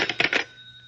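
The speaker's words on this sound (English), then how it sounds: "Answer the phone." A telephone ringing in an old radio drama: a short, bright, rattling bell burst lasting under half a second, then a fading ring tone, loud and close.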